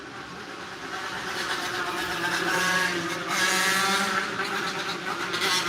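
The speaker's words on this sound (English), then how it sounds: "That's one of those dirt bikes." A dirt bike motorcycle passes by outdoors with a steady, loud engine drone that swells and holds for several seconds.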